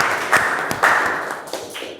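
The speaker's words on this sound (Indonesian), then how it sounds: "Tepuk tangan dulu untuk temannya." A short burst of clapping from students in a classroom for a classmate, a few scattered claps and thumps rather than full applause, close and fairly loud.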